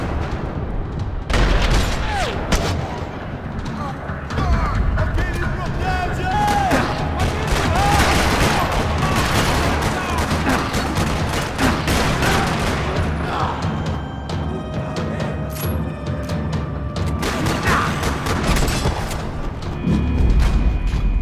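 Gunfire rattles through a parking lot in the Max Payne video game, with dense bursts, booming shots and thuds continuing throughout, loud and busy with little pause.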